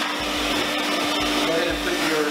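A Sirena vacuum cleaner runs with a steady, loud broadband motor roar that holds for the whole stretch, with a constant hum underneath and no pause.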